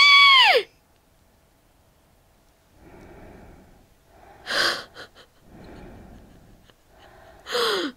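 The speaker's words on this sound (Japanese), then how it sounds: "そして息遣いが聞こえます。" A creature breathes through a hole in a wall in the Japanese horror game Mangekyou Kitan: sharp, harsh gasping bursts at the start, middle and end, with softer rasping breaths in between and no talking.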